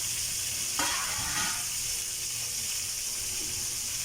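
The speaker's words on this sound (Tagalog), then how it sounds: "hahaluin ko na po yung pakbit" Pakbet vegetable stew sizzles steadily in a pan while being stirred, with a few scraping stir strokes standing out over the constant frying hiss.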